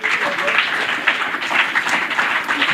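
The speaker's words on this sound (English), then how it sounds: "You guys want to give another round of applause to Rob" An audience at a Saturday speaker meeting claps for the speaker Rob, a thick, even roll of many hands held at steady volume for a few seconds.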